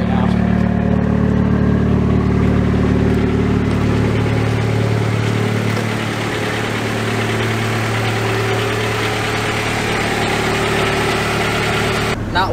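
A Honda Prelude's engine hums steadily at a low, even pitch from inside the car, dropping slightly softer partway through and then holding a smooth drone.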